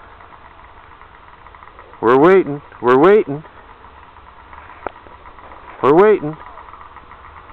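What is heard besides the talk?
snowmobiles idling at the start line of a drag race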